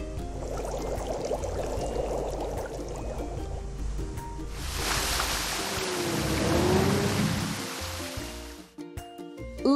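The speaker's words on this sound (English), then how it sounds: "Let's fill it with water and turn the fountain on" Water gushing steadily from a fountain in a children's construction-truck building game, a broad continuous splash that swells louder midway, with cartoon music tones layered over it.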